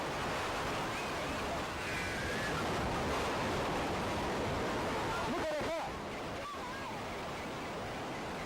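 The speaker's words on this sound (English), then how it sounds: "The waves sweeping in captured on their video." Heavy surging water roars continuously as tsunami waves sweep onto a beach in Aceh, 2004, a dense wash of broadband noise with brief faint voices near the end.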